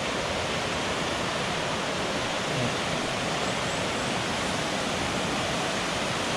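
Waterfall and swirling pools at Clare Glens, a steady, loud, unbroken rush of falling water filling the whole scene with no other sounds.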